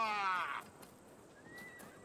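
A horse whinnies in Assassin's Creed Valhalla, a loud rising neigh for about half a second, then fades into quiet game ambience with a faint tone later.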